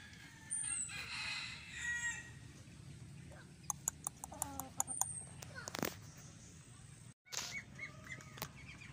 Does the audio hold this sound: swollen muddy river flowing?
no